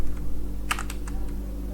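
HTML code typed on a computer keyboard: a short, uneven burst of about five light key clicks over a steady low electrical hum.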